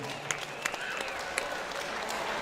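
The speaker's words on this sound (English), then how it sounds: "Please, let's have a round of applause for both your kickboxers in the ring." Crowd applause for two kickboxers in the ring after a three-round bout, with scattered claps and a few sharper individual hits over a quiet, steady hall murmur, fairly faint and short, with some voices in the mix.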